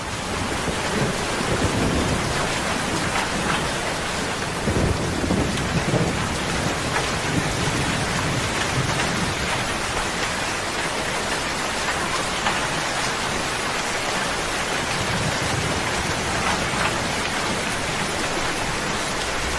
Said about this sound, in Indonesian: di luar masih hujan